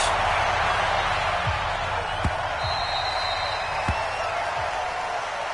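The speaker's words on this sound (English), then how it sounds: "this crowd is ready as their guys get set to match up between the Green Bay Packers and the Detroit Lions" A stadium crowd at a Green Bay Packers versus Detroit Lions football game, a dense continuous roar of many voices with occasional thumps and a faint whistle, steady and loud throughout.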